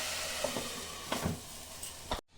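Bata fish fries with poppy seed paste in a covered pan, giving a soft, muffled sizzle. A few light clinks and taps break through before a sudden cut to silence.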